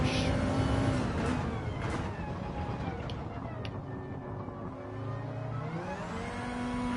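An Audi Group 2 car in a racing video game on the Sardegna track drones with a sustained engine note that sags and rises again as revs change, close and steady, with a voice talking over it.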